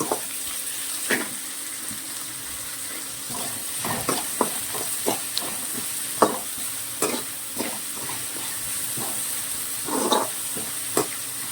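Onions sautéing with salt in a pan for a Tamil okra stir-fry, a steady low sizzle broken by repeated scraping stirs of a spoon against the pan, close and fairly quiet, with no voices.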